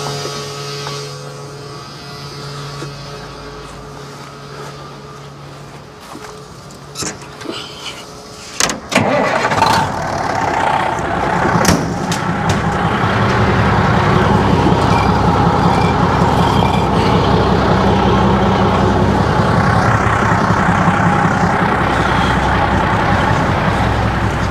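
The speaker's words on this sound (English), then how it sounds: "go start the engine the hard way because this switch is dead" A Jeep TJ engine is started by hand because of a dead switch, cranking with sharp clicks before catching and settling into a loud, steady idle that runs close by to the end.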